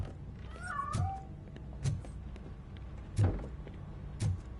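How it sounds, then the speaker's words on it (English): A cat meows in the Robocop Rogue City video game, one short mewing call early on, followed by several soft thumps spaced a second or so apart over low ambient noise. "That cat must be hiding inside."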